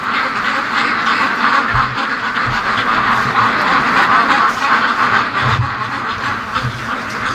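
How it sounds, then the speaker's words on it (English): Free-range ducks by a lake quacking in short repeated bursts, several birds close by and fairly loud over a steady outdoor background. "So it looks like the ducks will come out for us."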